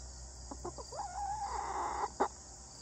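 Chickens cluck in short bursts, one drawing out a longer warbling call, with a steady hum of background noise throughout.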